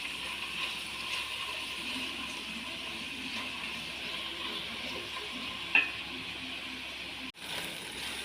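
Chopped cabbage for chicken noodles sizzles and hisses steadily in a hot pan, with soft stirring scrapes and one brief clack near the end, close and continuous.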